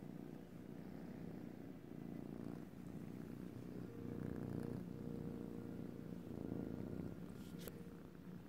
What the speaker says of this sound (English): Listen to me purr.